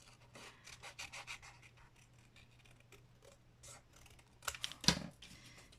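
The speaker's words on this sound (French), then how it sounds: "On va découper à la main." Paper being cut by hand with scissors for a handmade stationery gift kit, a series of faint, close snips and rustles of varying rhythm, with a few louder rasps near the end.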